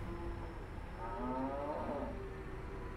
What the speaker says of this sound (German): Ich habe hier Kühe gehört, aber hier sind keine.